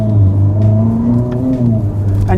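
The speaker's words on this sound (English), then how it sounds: "Ferrari turbo V8 sound we're getting used to hearing" A Ferrari turbo V8 in manual mode revs on the road, a close, steady low engine drone with shifting pitch lasting a couple of seconds, heard from inside the car.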